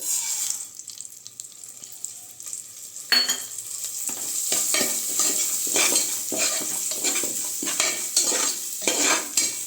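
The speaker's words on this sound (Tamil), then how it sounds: "ஒரு ரெண்டு நிமிஷம் நல்லா நெய்யிலேயே வறுத்து எடுத்துக்கோங்க" Moong dal roasting in ghee for a festival kozhukattai payasam, with a quiet start giving way to repeated scraping stirs and a soft sizzle in an uneven rhythm.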